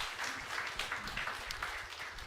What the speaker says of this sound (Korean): 그렇게 하겠다는 뜻으로 큰 박수로 환영해 주시겠습니까?